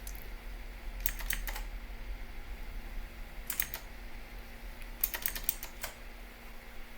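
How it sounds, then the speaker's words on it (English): Typing on a computer keyboard comes in three short bursts of rapid, fairly close key clicks, separated by pauses with a steady low hum underneath. "And let's type that in."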